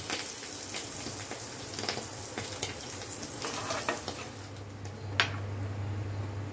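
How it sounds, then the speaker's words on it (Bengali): An egg fries in a pan with a soft, steady sizzle and scattered light crackles and pops, fairly quiet and with nothing else heard over it. "ডিম ভাজাটা হয়ে গেছে, আমি তুলে নিচ্ছি।"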